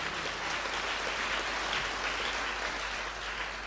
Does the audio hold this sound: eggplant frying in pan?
no